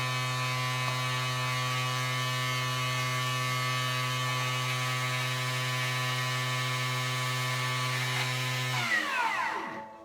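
A food processor blends red curry paste at speed 9, giving a steady, even motor whine for about nine seconds before it winds down to a stop.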